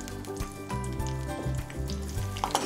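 Split green and red chillies with curry leaves frying in a pan for a Diwali poha chivda, a close, steady crackling sizzle over a low hum with a few clinks from stirring, no speech.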